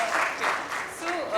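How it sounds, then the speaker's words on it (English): An audience at a fireside chat event claps briefly, a soft wash of applause that blends with a talking voice. "Lovely claps to that."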